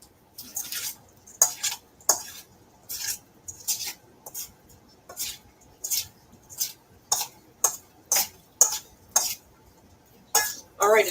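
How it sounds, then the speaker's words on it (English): Spoon clinking against a bowl while Peruvian ceviche is stirred, a steady series of sharp metallic taps and scrapes repeating roughly every half second, close and fairly quiet with no talking. "I'm going to stir it just to be safe"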